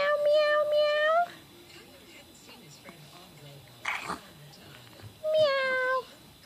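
A pet cat meows close by, two drawn-out rising calls separated by a quiet stretch with a brief rustle, while a person softly coos to it in between.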